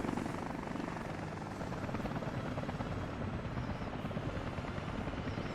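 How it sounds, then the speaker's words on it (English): Public transport helicopter in Workers & Resources: Soviet Republic, a steady, continuous rotor drone and engine whir holding at an even level throughout with no voices. "So that's our first public transport helicopter for foreign transportation."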